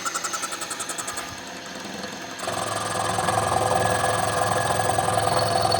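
A Tree 2UVR-C vertical milling machine cutting metal, first with a rapid rhythmic chatter, then a steady loud grinding hum as the cut continues, with no talking.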